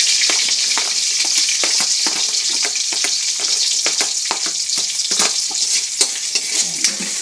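Garlic and onion fry loudly in a pan for pansit canton, a dense continuous sizzle close up, punctuated by frequent crisp scrapes and taps of a spatula stirring.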